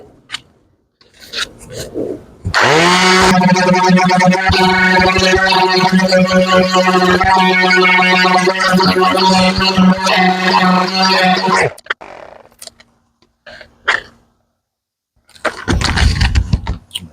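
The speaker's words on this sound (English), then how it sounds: "This cordless sander is nice." A cordless sander whirs loudly and steadily for about nine seconds while sanding a small door, then cuts off, followed by a few quiet scrapes and handling noises.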